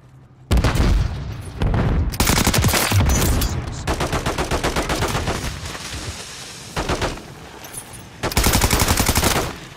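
Gunfire in Call of Duty MW3 zombies mode: repeated loud automatic bursts with short pauses between them, rapid rattling volleys close by, and a final burst near the end.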